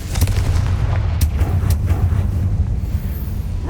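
Confringo fire spell explosions in Hogwarts Legacy, a few heavy booms and crackling blasts over a dense, steady rumble of in-game action, loud and close with no voices.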